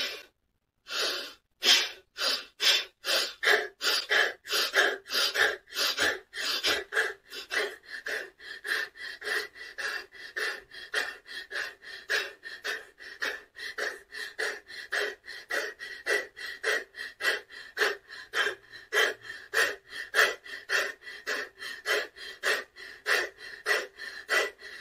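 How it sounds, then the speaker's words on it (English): Rapid rhythmic breath of fire breathing exercise done with arms raised, sharp forceful exhales repeating steadily at a fast even pace for the whole stretch, close and loud, no speech. "So you're just going to do breath of fire"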